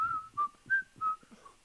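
Breathy whistled notes from a song, four short held tones in a loose rhythm with soft airy hiss, fairly quiet and alone without talk.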